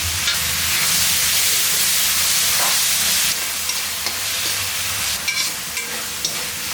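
Tomatoes and onions sauté in a pan for a dried anchovy curry, giving a loud continuous sizzle that eases after a few seconds and gives way to occasional stirring scrapes.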